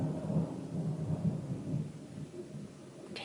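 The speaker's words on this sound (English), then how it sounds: "The thunder is rolling." Low rolling thunder rumbles steadily outside during a storm as rain begins, a deep continuous roar that slowly fades over a few seconds with no talking.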